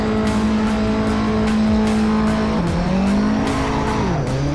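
An Alfa Romeo race car launches from the grid in Assetto Corsa, engine roaring loud and steady with tire squeal as its pitch climbs, then dips and rises again through gear changes.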